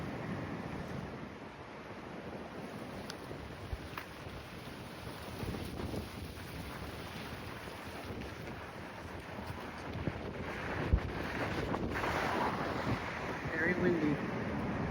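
Strong wind gusts buffet the microphone on Torremolinos beach while choppy waves wash and surge steadily close by, a continuous broadband roar with occasional louder gusts.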